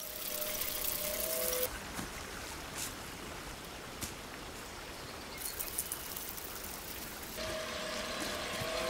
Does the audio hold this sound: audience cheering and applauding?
no